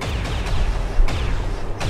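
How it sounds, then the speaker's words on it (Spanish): Reaction fire gunshots in the video game XCOM 2: War of the Chosen, a loud, dense burst of game gunfire with heavy low rumble and a few sharper cracks rising out of the din. "Disparos de reacción, a ver qué tal."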